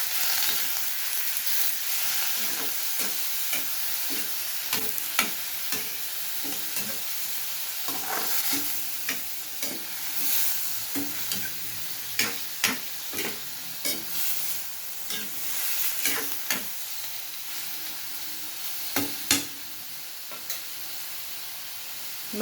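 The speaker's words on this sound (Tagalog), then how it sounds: "Lagay na natin ang ating pusit. Yan ang aking pusit. Haluin natin." Squid stir-fried in a pan for gisadong pusit with okra and pechay gives a steady, close sizzle. Irregular scraping clicks from stirring break through it, with no voices.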